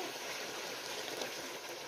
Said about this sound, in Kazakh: Картобымызды салғаннан кейін жарты бокал қайнап тұрған ыстық суды құямыз.